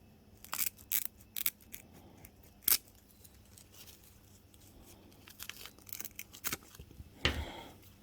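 Scissors snipping through a filter piece during fuel filter replacement on a Suzuki KingQuad ATV, several sharp close cuts in an irregular rhythm with rustling and crinkling between them.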